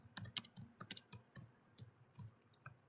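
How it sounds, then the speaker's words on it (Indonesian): Someone types a router command on a computer keyboard, producing a quick run of close, crisp key clicks in uneven rhythm, alone in a quiet room. "kita ketik perintah show IP router"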